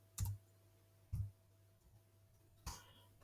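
Three sharp, isolated keystroke taps on a computer keyboard as a value is typed in, spaced about a second apart in a quiet room, close and crisp.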